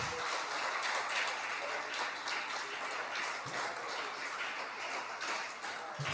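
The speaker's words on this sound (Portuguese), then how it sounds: "Palmas bem alegres para Jesus." Church congregation clapping, a steady dense wash of hand claps at moderate level continuing throughout without spoken words.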